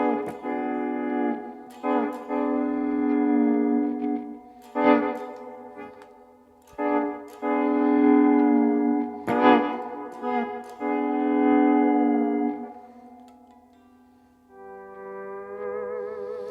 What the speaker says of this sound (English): add a little reverb to that